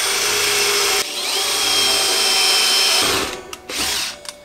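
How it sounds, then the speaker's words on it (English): A power drill with a 4 mm bit drills holes in wood for DIY bathroom furniture, whirring loudly and steadily with a brief pause, then stopping in a few short stuttering bursts. "I need to drill some holes."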